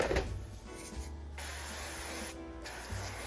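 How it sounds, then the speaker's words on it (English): A steady hissing spray from a cooking oil aerosol can runs continuously for a few seconds, close and moderately loud, with no talking. "I'm gonna add a little more spray so we don't burn."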